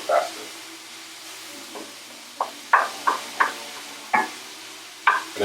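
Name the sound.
ground meat browning in a pan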